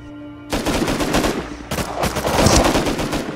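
Bursts of suppressed rifle fire and a heavier LR rifle in Rust on a cargo ship, a ladder nearby, start abruptly after a short quiet lead-in, then keep up as dense, loud volleys with a brief pause midway.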